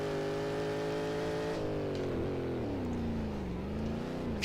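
A Shelby Cobra 427 V8 drifts in the racing game Assetto Corsa, the engine holding a loud, steady drone whose pitch sags and wavers as the car slides, with no talk over it.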